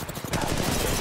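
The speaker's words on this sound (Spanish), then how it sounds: "¿Están disparando?" Automatic weapon fire in the mobile shooter Apex Legends Mobile, a short, loud burst of rapid shots filling about a second.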